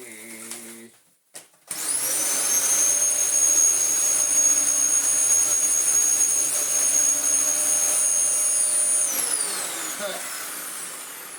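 A Dyson DC14 upright vacuum cleaner motor whines up to full speed after a couple of brief bumps, then runs steadily and loudly with a high-pitched tonal drone.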